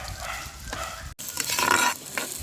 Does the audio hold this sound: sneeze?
no